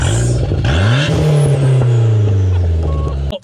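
A turbocharged car engine revs and accelerates hard, its pitch climbing then holding steady at a loud, close roar before cutting off sharply.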